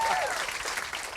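Live podcast audience applauding steadily throughout, dense clapping that fills the room, with a voice briefly heard over it near the start.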